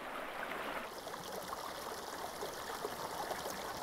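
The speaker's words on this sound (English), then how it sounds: "The stream has plenty of water in the spring" Spring stream in volcanic Italian countryside, water flowing over pebbles and among plants with a steady, continuous trickling rush, fairly close and even throughout, no voices.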